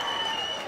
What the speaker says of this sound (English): we want to give Nia the day of Kwanzaa a round of applause as well